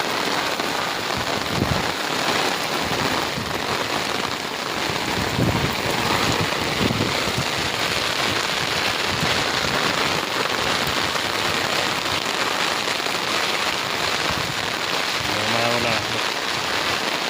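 Heavy rain pours steadily with wind gusting against the microphone, a dense continuous roar; a voice murmurs faintly beneath it.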